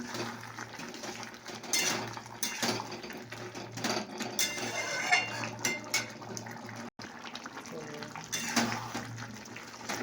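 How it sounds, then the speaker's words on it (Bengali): Spices are fried and stirred in a pan, giving a quiet sizzle with intermittent scraping from the spoon while someone talks over it. "মশলাটা দিয়ে একটু কষছি"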